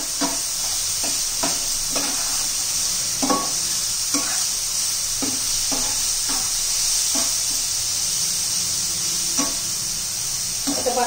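Egg masala being stirred on a flat tawa: a steady frying sizzle runs throughout, broken by about a dozen irregular scraping strokes of the spatula against the pan, close and fairly loud.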